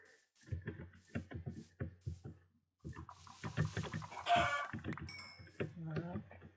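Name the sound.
chickens clucking in a video game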